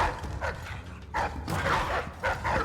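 Dogs in the video game Dishonored 2 bark and whimper in several close, separate bursts with short pauses between them, and no talk.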